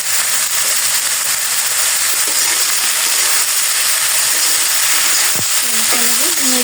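Food frying with salt and turmeric in a pan, a loud, close, continuous sizzle with stirring scrapes, and a brief bit of speech near the end.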